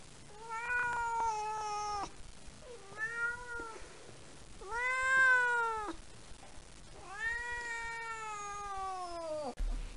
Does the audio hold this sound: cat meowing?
yes